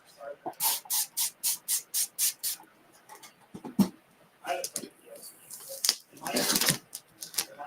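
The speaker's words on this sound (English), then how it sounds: "I could even spray it with something here." A series of short, sharp spray bursts hisses in quick succession, followed by scattered clicks, handling noises and another longer spray.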